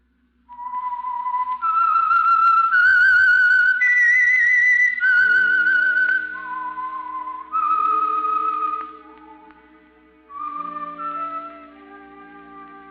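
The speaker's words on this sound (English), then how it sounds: "That whistle is your signal for the Signal Oil program, The Whistler." A radio drama's signature whistled theme, a solo human whistle tracing a slow, eerie melody of sustained rising and falling notes, loud and clear with a faint orchestral backing underneath and no talking.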